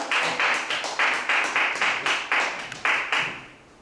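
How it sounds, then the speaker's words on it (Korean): An audience at a fundraising concert claps in a slow, evenly spaced rhythm of about a dozen sharp, close strikes, then the clapping stops and the room falls quiet. "박수 한번 쳐주세요"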